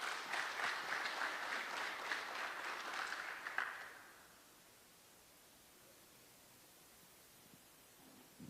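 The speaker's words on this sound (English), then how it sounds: "Let's have a round of applause for them, please." A media-day crowd applauds a high school football coach and team in dense, fairly faint clapping that stops abruptly after about four seconds and leaves quiet room tone.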